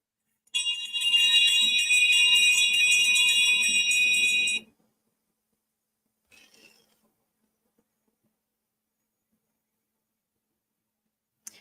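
An electronic bell rings continuously and brightly for about four seconds, then cuts off, leaving near silence apart from a faint brief rustle later.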